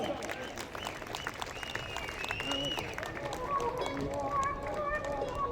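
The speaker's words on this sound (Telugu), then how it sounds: "గట్టిగా క్లాప్స్ ఇవ్వాలి." Applause from an audience at a success-meet event in Hyderabad, welcoming a guest and his family: a dense, steady wash of clapping mixed with crowd noise, heard under a talking voice and background music.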